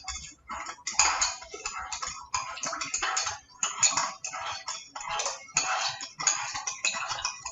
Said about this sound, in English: Okay, so then I'm going to go ahead and stir.